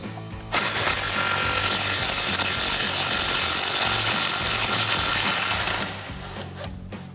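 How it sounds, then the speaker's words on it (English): A 3/8-inch impact gun with a 10 mm socket removes a bolt from the front suspension of a Ford F-250 during a leveling kit install: one loud, continuous, close whirring-rattling burst lasting about five seconds, then stopping. "I'm going to take my 10 millimeter on my 3/8 gun, get up inside here."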